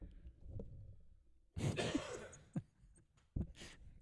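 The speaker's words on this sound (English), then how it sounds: "This cough. Golly." One harsh, rough cough up close, followed by a few quieter throat sounds and breaths in an otherwise quiet room.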